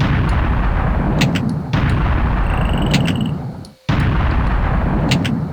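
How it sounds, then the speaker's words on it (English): A blunderbuss in the game Wrath of Cronos fires its primary shot repeatedly, each blast a dense booming burst with rattling tails, a few heavy rounds in quick succession with a brief gap of silence. "Here's the blunderbuss. It's the gun he gets eventually."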